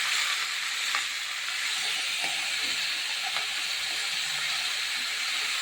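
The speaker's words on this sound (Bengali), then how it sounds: "এটা সুন্দর করে আমি ভেজে করে নিই" Steady sizzling hiss of food frying in a pan after a pinch of turmeric powder is added, continuous and fairly close, with faint stirring clicks and no talking.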